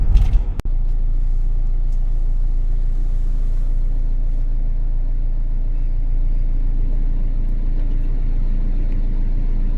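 A big Mercedes Sprinter van driving on a rainy day, heard from inside as a steady, loud low engine and road rumble that continues throughout after a brief knock at the start.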